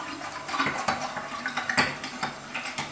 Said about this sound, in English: We'll start that water once again, make sure everything's flowing.